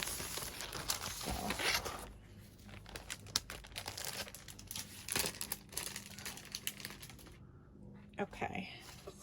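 The plastic wrapping on a paper pack is opened close up, giving bursts of crinkling and tearing with scattered sharp crackles. Quieter rustling pauses fall between the bursts.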